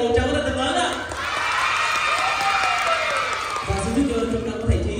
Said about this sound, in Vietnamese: thưa quý vị, một tràng vỗ tay thật lớn ạ